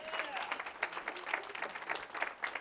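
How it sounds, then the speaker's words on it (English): Applause from a keynote audience, a steady patter of clapping hands that fills the room at moderate loudness, with no speech over it. "Give yourself a round of applause, yes?"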